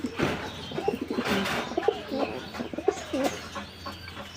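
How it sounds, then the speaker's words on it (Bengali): Fancy pigeons at a pigeon farm, several birds giving repeated rolling coos close by, with soft background rustle and a low hum. "কিছু কবুতর আছে"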